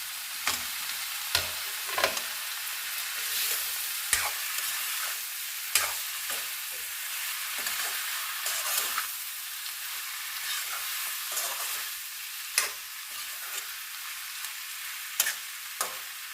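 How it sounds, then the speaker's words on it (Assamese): Mushrooms and chunks of potato stirred in a hot frying pan, a steady soft sizzle broken by repeated sharp scrapes and clacks of the spoon against the pan, close and alone with no talk. "মই এইখিনি এতিয়া ধুনীয়াকৈ মিক্স কৰি ল'ম।"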